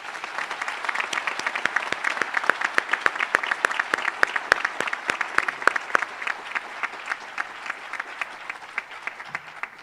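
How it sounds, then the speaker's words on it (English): Sustained applause from a school awards audience, dense overlapping claps with sharper individual claps standing out, steady and fairly loud for the whole stretch. "Please offer them a round of applause."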